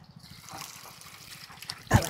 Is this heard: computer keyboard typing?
no